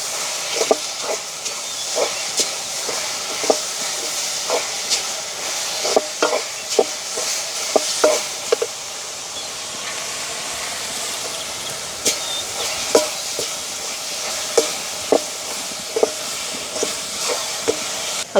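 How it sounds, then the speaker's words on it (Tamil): A spoon works through lavariya filling mixture in a pan, giving a steady sizzling hiss punctuated by frequent short scraping and knocking strokes at an uneven rhythm, with no talking. "இப்படியே நாங்கள் நல்ல வடிவாக கிண்டுவோம்."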